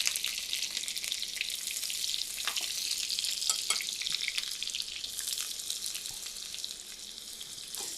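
Onions fry in ghee with a constant bright sizzle, punctuated by occasional stirring taps and scrapes, moderately loud and close with no voices over it.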